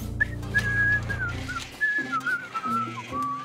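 Someone whistles a wavering, sliding tune up close, with low background music or hum underneath.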